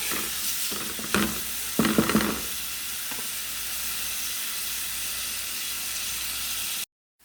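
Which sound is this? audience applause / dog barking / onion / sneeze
onion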